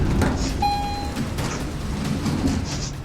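A door opening in a video game, heard as a sliding mechanical door with a smooth hiss and a short whistle-like tone, over steady low rumbling ambience.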